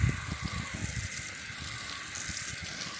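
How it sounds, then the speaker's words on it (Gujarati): Garden plants are watered with a steady, continuous rush of water, close and even throughout, with no talking. "આપણે પાણી પાઈ દઈએ"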